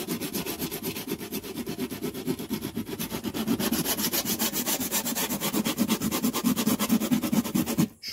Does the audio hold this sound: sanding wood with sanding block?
yes